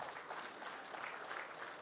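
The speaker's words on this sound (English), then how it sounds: "I want you to join me and give a hand of applause to them" Faint, steady applause from a crowd at a groundbreaking ceremony for five mini LNG plants in Kogi, Nigeria, a soft continuous patter heard from a distance.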